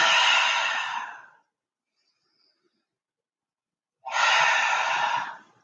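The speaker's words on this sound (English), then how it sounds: "And exhale." Two long, deep breaths during a yoga flow, each a breathy rush lasting over a second, separated by a few seconds of near silence.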